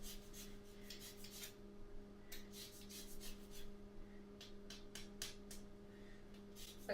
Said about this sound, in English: I'm going to zest about half the lemon.